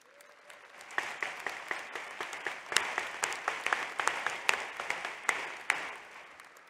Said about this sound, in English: please give a round of applause to all of those people who have supported you through your 2 years